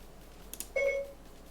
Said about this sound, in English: And my Siri got activated on my phone.